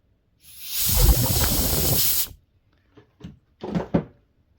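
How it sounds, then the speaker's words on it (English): A can of compressed air blasts a loud, close hiss for about two seconds to clean parts of Ray-Ban Meta smart glasses, followed by a few short, softer bursts and taps. "what I like to do is hit it with compressed air again."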